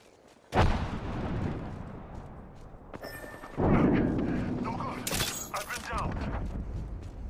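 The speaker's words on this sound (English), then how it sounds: "Taking fire, brothers." Apex Legends firefight: sharp gunshot and blast hits land at the start and again midway and near the end, each followed by a rumbling decay, moderately loud with speech in between.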